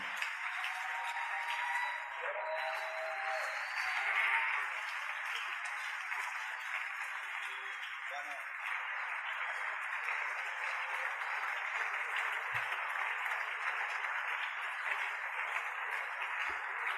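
A church congregation applauds in praise during a service, a steady, fairly quiet wash of clapping that holds evenly for the whole stretch without any talk.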